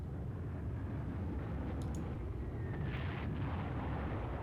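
Explosions from a bombing attack on a battleship in the Panzer Corps wargame, set over Norway in cloudy weather: a steady low rumbling roar with a couple of faint distant blasts, sustained and fairly loud throughout.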